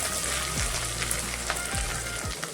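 Spices sizzling in hot oil for a dhaba-style urad dal tadka with ginger-garlic paste, a steady close crackle and hiss with a few brief stirring scrapes and no talk.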